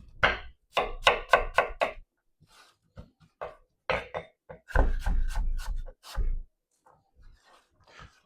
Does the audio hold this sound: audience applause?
no